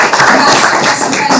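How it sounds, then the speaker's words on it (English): Small group applauding during a webinar, quick close claps and taps blending into a short, loud burst. "I would like to ask for a round of applause to Stephen."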